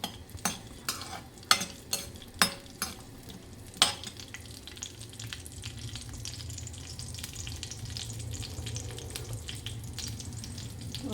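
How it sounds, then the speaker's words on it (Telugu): Ingredients for Pongal frying over a low flame in a pan, opening with several sharp spatula scrapes and taps while stirring, then settling into a soft, steady sizzle, close and fairly quiet. "తక్కువ ఫ్లేమ్లో పెట్టుకుని జాగ్రత్తగా మనం వేపుకోవాలి."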